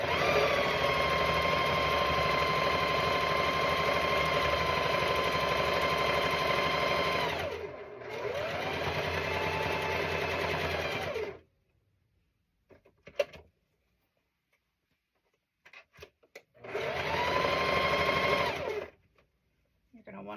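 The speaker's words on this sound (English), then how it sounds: "Just regular old sewing machine that I'm doing this on." Regular home sewing machine stitching a cross stitch quilt block, a loud steady mechanical whir running in long bursts with a brief pause and then a longer gap, followed by one more short run.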